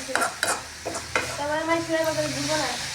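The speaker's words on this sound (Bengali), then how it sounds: "এটা অনবরত নাড়াচাড়া দিতে হবে যেন তলায় লেগে না ধরে" A spatula stirs grated coconut with date palm jaggery in a pan for village-style pitha, giving scraping strokes and a soft sizzle, fairly close, with harmonic tonal squeaks partway through and no talking.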